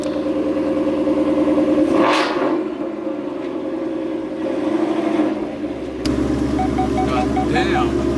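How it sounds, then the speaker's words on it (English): A Whipple-supercharged Ford Mustang engine roars and revs as the car accelerates at wide-open throttle, loud and close, with a steady supercharger whine throughout and people talking over it. "show him how my Whipple Mustang drives"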